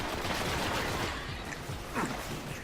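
A random weapon picked up on the map in Destiny fires in a dense burst of gunshots, loud and continuous through the short stretch, with rapid overlapping reports.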